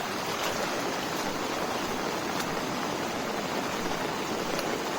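Rainwater pouring down a village road in Kandhamal like a waterfall, a steady broadband rushing roar that stays even and continuous throughout, with no voices.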